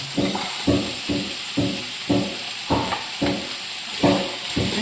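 Cauliflower and frozen green peas sauté in a hot pan under a constant sizzle, with a spatula scraping and stirring in a steady rhythm of about ten strokes; no voices.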